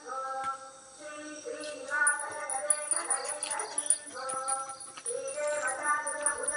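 Dogs barking and yipping on a dark street at night, several close barks and whimpers in irregular bursts, with a person talking over them.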